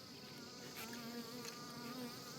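Bees swarm around an opened beehive during a hive inspection, filling the air with a steady, dense buzzing that holds close and even throughout, with no voices over it.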